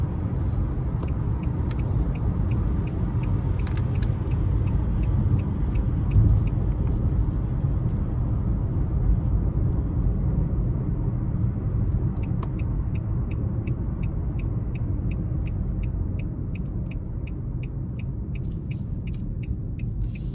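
Steady road rumble and tire noise fill the cabin of a 2023 Nissan Murano SL driving down the road, a continuous low drone with faint ticking of the turn signal at times, no one talking.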